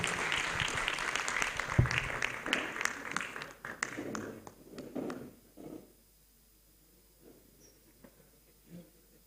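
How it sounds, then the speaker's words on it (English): Applause from an audience at the Ghana Institute of Architects annual general meeting greets the chairman taking his seat; it starts full and busy, thins out and fades to near silence by the midpoint, leaving a few stray claps. "A round of applause for the chairman as he takes his place here"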